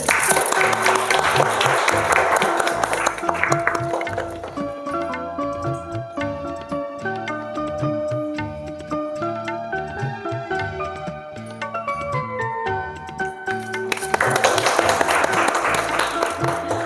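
Loud applause from an audience for the winner at a Purulia reality show finale, swelling strongly at the start and again near the end, with music playing in between while the clapping carries on more softly.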